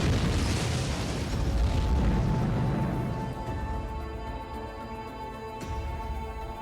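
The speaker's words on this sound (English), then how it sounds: "Yeah, because batteries explode." A battery explodes in a video game with a loud, booming burst that rolls on and slowly fades into a lingering rumble, with game ambience underneath.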